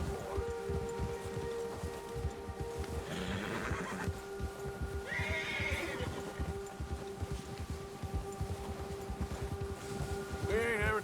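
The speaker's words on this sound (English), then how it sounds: "The bear has spooked your horse." In Red Dead Redemption 2, a horse spooked by a nearby bear whinnies and neighs in agitation. The cries come in repeated bursts over steady hoof clip-clops and a low ambient rumble, with no talking.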